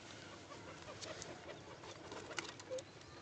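A breeder's domestic pigeon at home coos softly in short murmuring bursts against a steady background hiss, with no talking.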